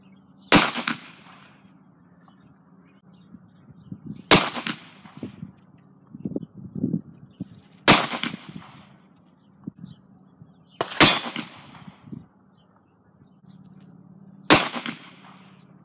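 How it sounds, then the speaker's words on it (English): Ruger LCR revolver fires .38 Special +P soft lead round nose rounds into gel blocks, five sharp, loud single shots spaced a few seconds apart, with quieter handling rustles in between. "I'll be shooting these out of the Ruger LCR."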